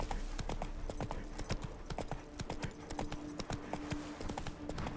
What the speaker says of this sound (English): sometimes it's nice to let Roach stretch her legs.